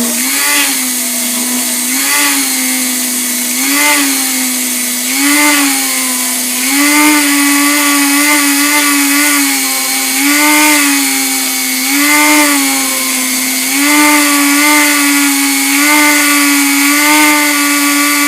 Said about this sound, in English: now we have our little plastic disc blade, and we're going to use this on our crappy low-grit sandpaper.